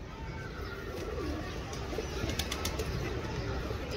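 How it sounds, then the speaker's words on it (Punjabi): A red-winged pigeon coos at a pigeon show, its low repeated calls sitting close under a steady noisy background with faint bird chatter. "ਲਾਲ ਚਪੜਾ ਕਬੂਤਰ ਜੀ"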